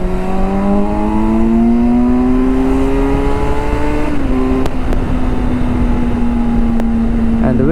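A Kawasaki Versys 1000 inline-four touring motorcycle pulls hard on an open road, its engine note rising steadily through a gear, a brief dip at a shift and then climbing again, loud and close with wind rush.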